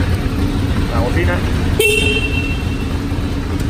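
A short horn blast from a Honda VFR 750 (RC36) motorcycle sounds once near the middle, a brief bright tone over a steady idling engine and background noise.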